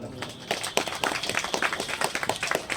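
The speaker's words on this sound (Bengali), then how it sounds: "আমাদের নদিয়া জেলার ডিস্ট্রিক্টের ওয়ার্কিং প্রেসিডেন্ট রাজেশ বিশ্বাস মহাশয়ের জন্য জোরে হাততালি হোক একটা" A crowd at a free medical camp event in Nadia district claps for the district working president, giving a dense burst of brisk, close applause that carries on without a break for a few seconds.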